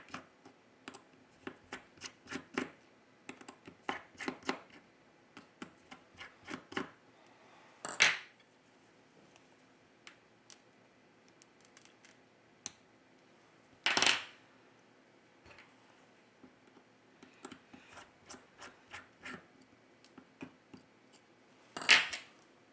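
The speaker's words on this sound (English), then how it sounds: "Remove the screws from the bottom of the device." Small screws being removed from the bottom of a Huawei P30 Pro phone during a charging flex repair, with faint close clicks and light metallic taps scattered throughout and a few sharper clinks as screws drop.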